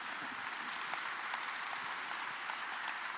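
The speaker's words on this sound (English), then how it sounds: "please join me in the round of applause one more time for the amazing keynote" A conference audience gives a round of applause after a keynote talk, even, moderately distant clapping that continues at a steady level throughout.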